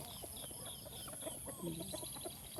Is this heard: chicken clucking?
yes